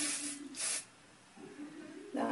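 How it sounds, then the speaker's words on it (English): Hairspray hisses in short aerosol bursts onto hair set with velcro rollers. There are two or three close, breathy sprays with pauses between them, and a faint tone hums underneath. "I'm just going to spray"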